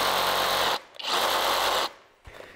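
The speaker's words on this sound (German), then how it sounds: "das ist die erste Bi-Turbo Säbelsäge von Bosch" A Bosch GSA 18V-28 cordless reciprocating saw buzzes loudly in two bursts with a short pause between, then a brief restart as it cuts through a steel railway rail.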